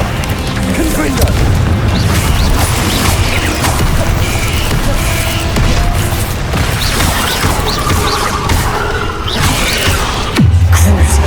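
A Confringo blasting spell in Hogwarts Legacy erupts in a loud, sustained barrage of booms, crashes and crackling debris that fills the whole stretch, closing with a heavy low impact.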